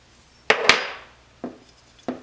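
A punch is struck to drive pins out of a Grizzly Mark I during disassembly, giving four sharp, close metallic taps: a quick pair, then two single hits spaced apart, with short ringing decays and no talking.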